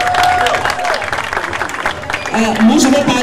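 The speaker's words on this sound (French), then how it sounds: "Est-ce qu'on peut applaudir pour les 5 finalistes de Yaoundé?" A crowd claps for finalists at a Miss Beach 2017 casting in Yaoundé, Cameroon, the applause loud and close, mixed with voices and chatter throughout.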